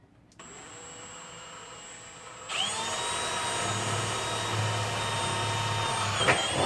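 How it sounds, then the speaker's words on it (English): A power drill bores a hole into a plastic hydroponic bucket. A high steady whine starts, then the motor surges and strains as the bit bites into the plastic, running loud and close for several seconds. "And I'm going to drill a hole."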